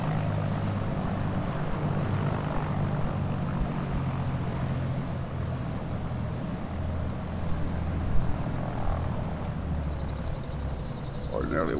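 A model aircraft engine drones steadily for takeoff in a demo run, a continuous buzzing whine with a slight pitch shift and a brief bump near the end.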